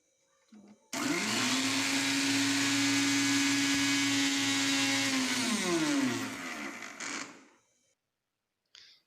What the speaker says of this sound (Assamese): পানী দি আকৌ পুনৰাই আকৌ মিক্সিত এবাৰ গ্ৰাইণ্ড কৰি ল'ম, যাতে ভালদৰে পেষ্টটো হয়